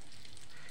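Food frying in a pan gives a steady, close sizzle that runs unbroken and fairly faint for under a second, with no voices over it.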